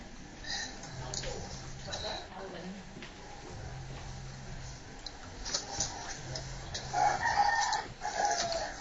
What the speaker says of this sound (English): I can hear chickens.